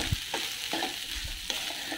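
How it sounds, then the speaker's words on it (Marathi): Masala rice is mixed in a pan, with three or four quick scraping strokes of a spoon against the metal over a light sizzle, each stroke short and close. "आता हे चांगलं मिक्स करून घ्यायचं"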